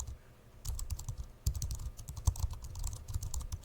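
Computer keyboard typing from a Canva AI-generated video, quiet and close, starting after a brief low hum with irregular bursts of keystrokes over a soft humming background.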